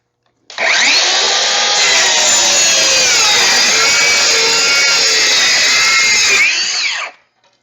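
A DeWalt 20-volt brushless circular saw cutting plywood, a loud, high, steady whine lasting about six seconds, with the pitch sagging slightly under load, then spinning down as it stops; no talk.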